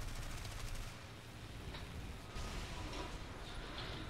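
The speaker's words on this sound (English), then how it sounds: "I just got shot up by something. I'm still being shot up." Machine-gun fire striking a plane in the War Thunder flight game, a dense continuous rattle of rapid bursts over loud steady engine drone, with a few sharper impacts standing out.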